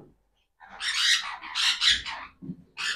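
Pet conures squawk in loud, harsh bursts close by, several overlapping calls following one another with short gaps, and no talking.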